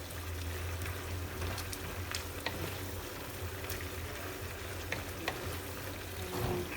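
Chinese-style chicken and rice sizzles steadily in a pan over high heat, a continuous crackling fry with scattered pops and occasional soft stirring clicks, close and even throughout.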